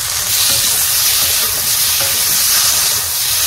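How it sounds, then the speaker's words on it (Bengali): Tomatoes sizzling in hot oil in a village kitchen pan with a little turmeric and salt, a steady loud close frying hiss that holds throughout with no talk. "টমেটো ভেজে নেবে, টমেটো দিয়ে দিল,"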